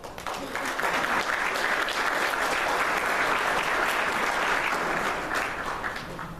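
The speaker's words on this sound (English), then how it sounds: "So let's give yourself a round of applause." A full round of applause from an audience at a festival gathering in Fresno, swelling in quickly, holding steady and thick for several seconds, then tapering slightly at the end.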